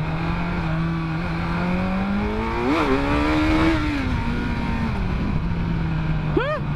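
Engine of a 2017 Kawasaki Z900 motorcycle on a ride, a steady droning exhaust note that swells as revs rise, holds, then eases back, close and loud throughout, with a short sharp rev at the end.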